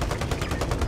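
Rapid automatic gunfire from the Warzone video game rattles in a fast, even burst, loud and close.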